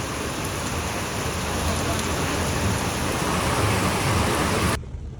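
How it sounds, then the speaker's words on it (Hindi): Heavy monsoon rain in Dehradun pours steadily as a dense, loud wash of hiss across the whole clip, with no breaks, and ends abruptly near the close. "वाह देहरादून का फील, देहरादून की बारिश।"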